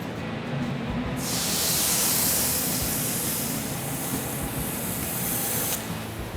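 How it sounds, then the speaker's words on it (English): Vegan burger patties and toppings sizzling on a grill, a loud steady hiss that swells in, holds for several seconds and drops away near the end. "we're going to take all this and put it on the grill"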